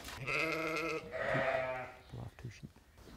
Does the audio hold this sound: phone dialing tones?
no